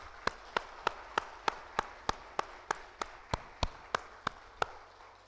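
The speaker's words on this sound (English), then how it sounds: "giving them a round of applause and appreciation for their work" A single pair of hands claps about fifteen times in a steady, slightly uneven rhythm, each clap sharp and close, rising from a faint room hush rather than from a crowd.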